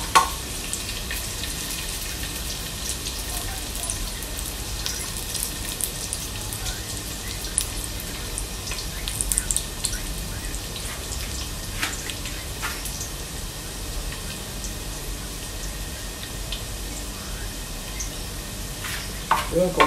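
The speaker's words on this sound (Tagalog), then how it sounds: "dutuin lang natin ang bawang guys" Garlic sautés in a pan with a continuous close sizzle and crackle, punctuated now and then by scraping stirs, steady for the whole stretch.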